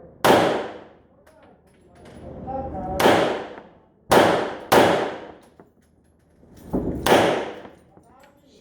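Gunshots ring out at an indoor shooting range in Makati, Philippines: five sharp, loud reports spaced about a second or more apart, each with a ringing decay, with a few faint voices between shots.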